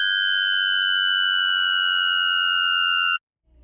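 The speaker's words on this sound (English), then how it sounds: "Now this is a screechy patch, and with all the effects," A screechy synthesizer patch built from layered wavetables through a formant-style filter holds a bright, steady, piercing tone with stacked high harmonics for about three seconds, then cuts off abruptly into silence.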